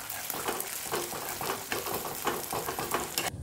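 Beaten eggs seasoned with salt sizzle steadily in a hot pan as they are scrambled into bhujia, with a continuous close frying hiss broken by soft stirring scrapes.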